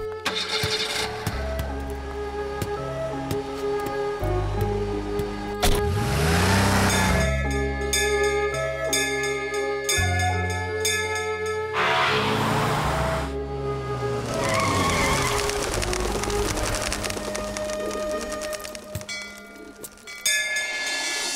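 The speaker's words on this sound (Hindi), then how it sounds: "गाड़ी स्टार्ट करो।" A car engine starts and revs in a Hindi-dubbed action film scene, with loud tire squeals and roaring acceleration mixed under a dense film score.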